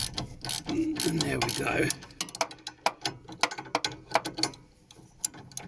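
Spanner ratcheting a nut tight on an anti-roll bar link on a Vivaro/Trafic van, a run of quick close mechanical clicks in bursts after some handling noise, with a brief spoken remark.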